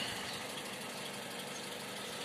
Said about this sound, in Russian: вот так вот завелся двухлитровый бензиновый двигатель без всяких проблем и эксцессов